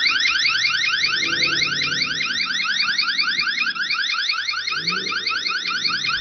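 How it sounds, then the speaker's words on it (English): A eufyCam S4 security camera's electronic siren alarm, around 105 decibels, wails in rapid, repeating sweeps, continuous and piercing, while a low murmur of voices sits faintly beneath it. "let's combine this with the alarm that's around 105 decibels."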